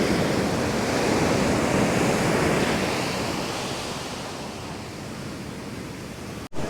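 Broadband surf from ocean waves at a beach beside the Pacific Highway, a steady loud wash of breaking water with a sudden brief dropout near the end.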